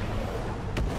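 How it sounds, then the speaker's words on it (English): Katyusha rocket artillery fires in a war video game, one loud booming blast standing out briefly from a dense, roaring background of battle noise. "Oh my god, it's a Katyusha."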